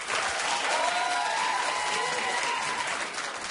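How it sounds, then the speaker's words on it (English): A talk-show studio audience claps steadily throughout, a dense continuous applause heard up close, with a voice faintly audible beneath it. "Clap it like you mean it, sir."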